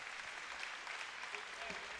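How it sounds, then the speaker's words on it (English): Steady applause from a crowd in a basketball gym during a men's college game, a continuous dense patter of clapping at moderate level with faint voices mixed in. "And number 11 get a nice round of applause."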